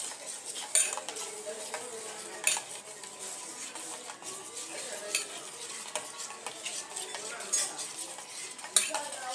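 Egg pudding mixture stirred steadily in a bowl, with continuous scraping and clinking of a utensil against the sides and occasional sharper taps, close and fairly quiet with no talking.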